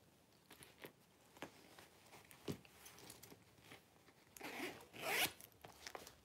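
Zipper on a pebbled leather Sack brand purse with a zip-top closure, a few soft scattered zips building to a louder, longer close pull near the end, heard alone at close range.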